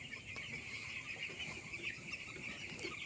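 Chicks chirp steadily as a thin, continuous high twitter filling a poultry shed, faint and at a moderate distance with no voices.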